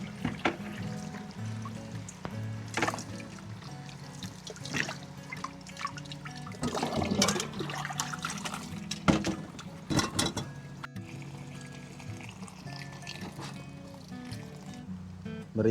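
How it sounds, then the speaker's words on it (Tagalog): Something is rinsed under running water on a farm, with steady trickling and splashing plus intermittent louder drips and sloshes, close and moderately quiet, with no talk. "Hugasan lang po muna natin"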